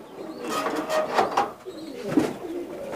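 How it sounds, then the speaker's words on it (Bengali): Teri pigeons coo in a loft, a few soft rolling throaty calls close by, rising and fading in short bursts with no talk. "এটা আমার টেরি কবুতর"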